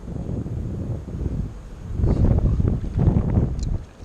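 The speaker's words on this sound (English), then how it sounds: "The wind's gonna make it tough on me. Ooh, this wind." Gusting wind buffets the microphone outdoors along the Guadalupe River in New Braunfels, Texas, a steady low rumble that swells louder in the second half with no speech.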